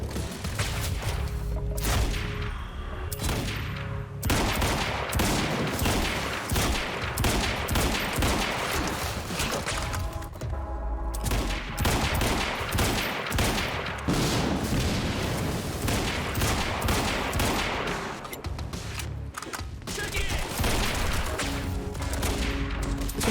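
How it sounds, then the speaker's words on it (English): Turret gunfire in the Quantum Break video game: sustained, loud bursts of rapid automatic fire with heavy booming impacts, running almost continuously with only brief gaps. "That's a turret."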